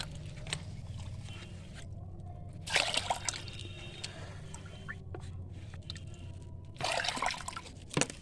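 Liquid compost mixture pours from a bucket in a garden setting, with wet sloshing and splashing. Two louder splashy bursts stand out, and faint trickles and bucket handling fill the gaps.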